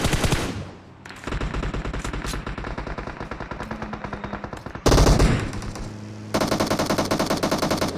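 Rapid automatic gunfire in a battle-royale shooter video game played while driving a vehicle, loud bursts of machine-gun fire in long rattling strings with brief pauses between volleys, alone without talk.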